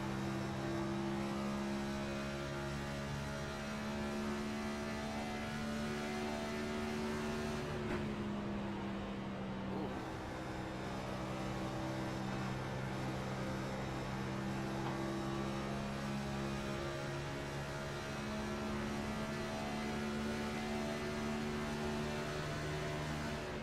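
Gen 7 stock-car engines scream at high revs in a racing video game at the Charlotte oval at night, a sustained droning whine that dips slightly in pitch midway, then holds steady, with no voices.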